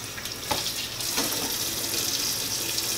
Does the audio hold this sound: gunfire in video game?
no